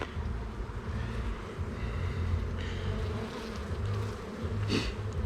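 Honeybees swarm and buzz densely over a hive frame held in the hands during a hive inspection, a steady loud hum with no talking.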